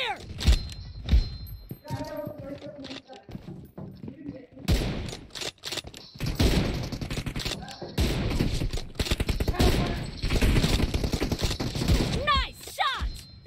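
Bursts of automatic gunfire from a PUBG Mobile match crackle through the clip, dense volleys after a quieter start, with someone talking over the shooting.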